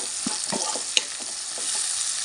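Onions and green chillies frying in a pan for a cluster beans curry, with a constant sizzle under a few soft stirring scrapes and one sharp tap, close by, with no speech.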